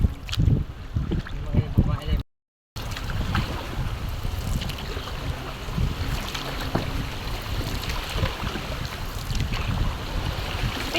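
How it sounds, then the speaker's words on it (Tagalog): Steady outdoor wash of water and wind around a small fishing boat crossing a river current, with soft irregular splashes of paddling and voices talking intermittently; a brief dropout near the start. "kami nakakasakay na po sa bangka"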